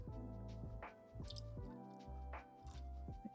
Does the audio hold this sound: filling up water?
yes